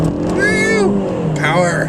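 A 2013 Kia Soul 2U engine revs up as the car pulls away. The rising drone is close and loud but brief, and a voice talks over it.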